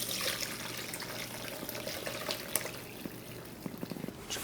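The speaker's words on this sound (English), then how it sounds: "Now that I have all the short ribs out, I'm going to strain this." Braising liquid from cooked short ribs pours through a strainer, giving a steady, close splashing and trickling wash of liquid with a few small drips and clinks near the end.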